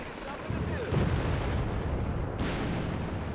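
Mortar fire in Company of Heroes 3, heavy booming blasts and rumbling battlefield noise layered under a caster's ongoing commentary.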